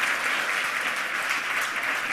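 Applause from a conference audience welcoming a speaker at the 27c3 hacker congress, steady and fairly loud, with dense clapping filling the whole moment and no voices over it.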